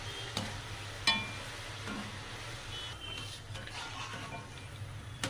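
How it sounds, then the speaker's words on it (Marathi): Lentils (dal) fry in hot oil, making a faint, even sizzle close by. A few light knocks and clicks from stirring come through now and then, and no one speaks. "चांगली आपण आता तिला फ्राय करून घेऊया तेलामध्ये"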